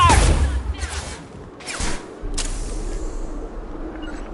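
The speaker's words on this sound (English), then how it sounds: "Taking heavy fire!" Heavy gunfire in Mass Effect 2 comes as several sharp bursts and blasts in quick succession, loud at first and then scattered over a rumbling backdrop.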